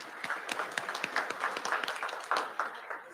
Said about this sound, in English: Big applause there for Mr. Raymond L. Scott.